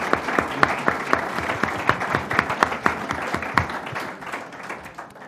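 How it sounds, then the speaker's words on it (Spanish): An audience at a Syria solidarity event in Spain applauds steadily, many hands clapping in a dense patter with a few sharper claps standing out, moderately near and sustained throughout. "Creo que este aplauso va para George"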